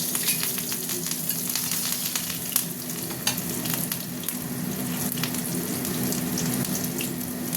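Dried red chillies and slit green chillies frying in hot oil, a loud, steady, crackling sizzle that runs continuously with small popping spits throughout.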